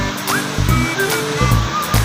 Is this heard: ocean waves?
yes